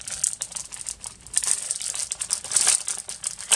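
Plastic packaging from an AliExpress order holding a die crinkles and crackles up close as it is pulled and torn open, a continuous bright rustle with no talk.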